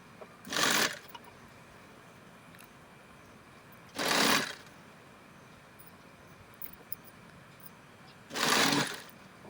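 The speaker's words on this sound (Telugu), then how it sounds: "ఇలా స్లోగా స్టిచ్ చేసుకోవాలి. ఇలా నెక్ అంతా వచ్చేలాగా స్టిచ్ చేసుకోవాలన్నమాట." Sewing machine stitching lace around a blouse neckline in three short separate bursts with quiet pauses between them, close and moderately loud over faint background hiss, with no talking.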